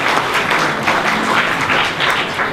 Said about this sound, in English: Ladies and gentlemen, another round of applause for Mr.